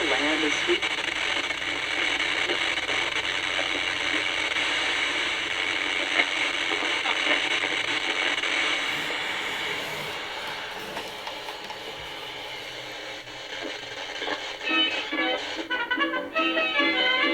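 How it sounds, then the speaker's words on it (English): Steady hissing static fills the air from a Semier retro boombox cassette player's AM/FM radio, loud and continuous, shifting slightly in tone partway through as if the dial moves, with warbling tuning noise near the end. "Well, there's some classic old static."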